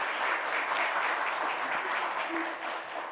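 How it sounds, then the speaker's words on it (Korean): Congregation applauding in a church after a choir's performance at a Palm Sunday morning service, a sustained, even wash of clapping from a large group in a reverberant room. "그 주님께 영광의 박수를 돌려드리겠습니다."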